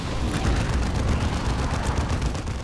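Artillery strikes pounding the battlefield in Dawn of War II, a dense, continuous barrage of loud booms and rumbling blasts with no pauses.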